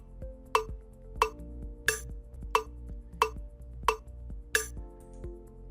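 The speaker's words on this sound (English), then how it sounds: "this one lets you create a click track" Generated click track with steady metronome ticks: a bright bell-like accent strike about every two-thirds of a second over a softer low pulse, evenly spaced and loud, with no voices.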